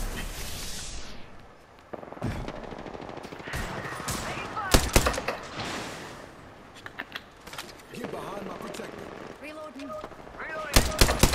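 Gunfire in the Apex Legends battle royale game: repeated sharp bursts and single shots of varying loudness, some close and some farther off, with game effects and a voice speaking through the mix.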